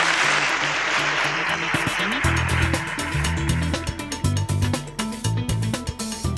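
A school crowd applauding students for their exam results, dense clapping that swells at first, then thins into scattered, uneven claps toward the end.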